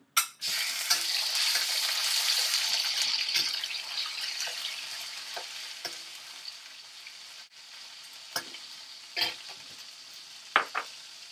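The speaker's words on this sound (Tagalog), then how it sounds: "Prito ko na yung baboy, ha." Loud, steady sizzling of pork frying in a hot pan, with occasional clinks and scrapes of a utensil stirring.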